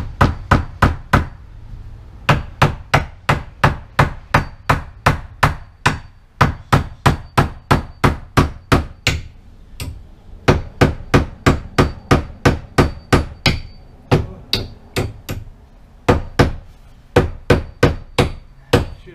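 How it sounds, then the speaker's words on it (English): A framing hammer pounds wood during termite and water rot damage repair in a workshop, a steady run of sharp, heavy blows, close and loud, with brief pauses between sets of strikes. "Shouldn't be using my framing hammer"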